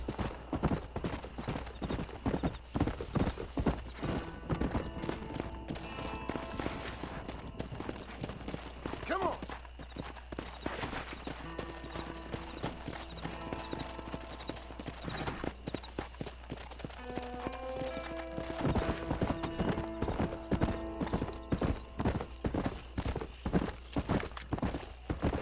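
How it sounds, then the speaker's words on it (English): Horse hooves clip-clop in Red Dead Redemption in a steady, rhythmic trot over game music, with occasional voices. "Meu Deus, o cavalo endoidou."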